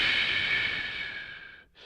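A single long inhale drawn through pursed lips during a breathing-technique demonstration, a steady close airy hiss lasting over a second before stopping abruptly, with no talk.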